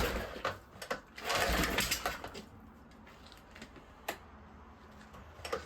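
A sitting Suzuki DF4 outboard engine sputters briefly after a shot of ether, a short rough burst of rapid firing that dies into faint irregular ticks and clicks.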